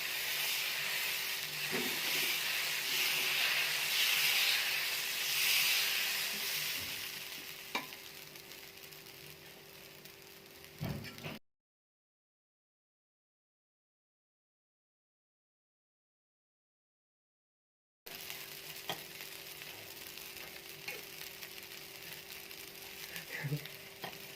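Potato masala dosa cooking on a hot griddle over low heat gives a steady, soft hiss and sizzle that fades after several seconds, breaks into silence, then returns as a quieter, even hiss.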